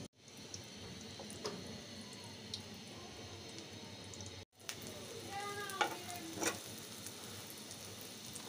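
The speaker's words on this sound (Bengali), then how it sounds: "ওর জন্য ডিম ভাজবো" Quiet, steady sizzling of an egg frying in a pan, with a brief break midway and a few light scrapes near the end.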